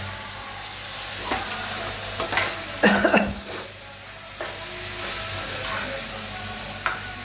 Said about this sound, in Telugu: మటన్ వేసి కలపాలి